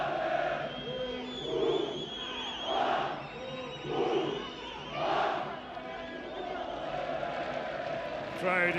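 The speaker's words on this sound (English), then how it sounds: "Crowd enjoying themselves." A football stadium crowd at a CAF Women's Champions League semi-final between ASFAR and Bayelsa Queens chants in rhythmic, swelling waves of voices, rising and falling about every second, moderately distant and continuous throughout.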